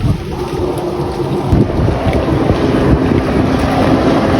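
A jet ski engine drones on the Muar River over heavy wind buffeting the microphone, with rushing water throughout and no talking.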